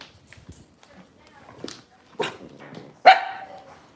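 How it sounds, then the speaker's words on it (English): Daisy, a Cavalier dog in a home where puppies are being born, growls and gives a couple of sharp barks, the loudest near the end, with people talking nearby. "Do you guys hear Daisy growling?"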